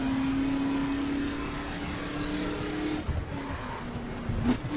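Car engine in The Crew racing game, driven along a Florida Keys road, holding a steady loud drone with a low hum throughout, shifting slightly near the end with a few soft knocks.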